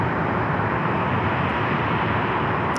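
A KC-135 military jet delivered in 1962 rumbles at Phoenix Sky Harbor, a steady, loud, broad engine roar with no break across the short stretch.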